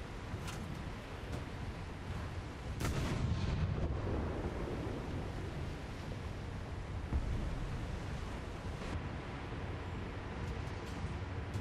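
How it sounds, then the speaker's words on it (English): Naval gunfire and torpedo hits in the video game War Thunder, heard as a continuous low rumble with heavier booms around the third second and scattered thuds, no speech. "That's a torpedo kill right there."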